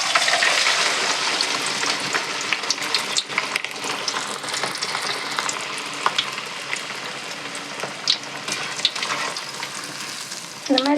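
Bottle gourd vadas frying in hot oil give a steady, dense sizzle and crackle for the whole stretch, with scattered sharper pops and small clinks throughout and no talking.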